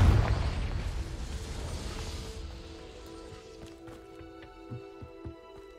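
A Confringo fire spell from the video game Hogwarts Legacy bursts in a loud, rumbling blast that fades over a couple of seconds into ringing, shimmering tones and a few light knocks.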